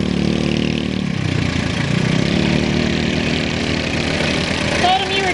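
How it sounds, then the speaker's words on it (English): A tractor engine idles with a steady low mechanical drone, close and fairly loud, holding an even rumble throughout with a slight shift in pitch partway. "so he had to go get the tractor"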